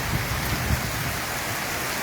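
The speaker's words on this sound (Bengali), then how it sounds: "কালবৈশাখী ঝড়," A Kalbaishakhi storm lashes Boalkhali with heavy rain, a dense, steady roar of downpour close by, with low rumbling underneath and no voices.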